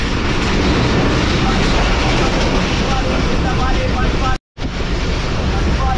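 A passenger railcar rumbles loudly through mountain country, with a steady roar and faint clickety-clack, briefly cut by a short dropout near the end.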